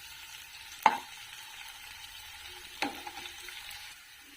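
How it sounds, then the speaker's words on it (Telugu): Ginger garlic paste frying in hot oil while a curry base is being cooked, a steady soft sizzle with two sharp stirring clatters against the pan, alone without talk. "అల్లం వెల్లిగడ్డ పేస్ట్ కూడా పచ్చి వాసన పోయేదాకా వేయించుకోవాలి."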